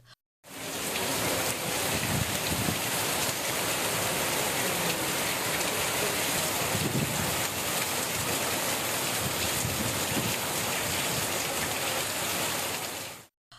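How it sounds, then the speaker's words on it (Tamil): Heavy rain with strong wind pours steadily over an evening town in Tamil Nadu, a dense, loud, unbroken hiss of water on surfaces that holds level throughout with no voices. "மாலையில் பலத்த காற்றுடன் கனமழை பெய்தது."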